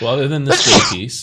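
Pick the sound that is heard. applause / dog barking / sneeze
sneeze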